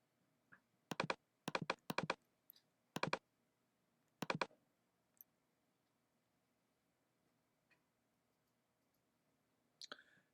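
Computer mouse clicks while working in software: sharp, close, quiet clicks in quick clusters of two and three, spaced by pauses, in an otherwise silent room.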